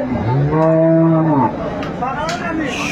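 A single loud, close cow moo, drawn out for about a second, followed by faint background murmur, at a dairy cattle market in Aftabganj, Dinajpur.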